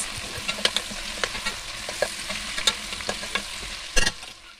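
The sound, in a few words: meat frying with sweet pepper and garlic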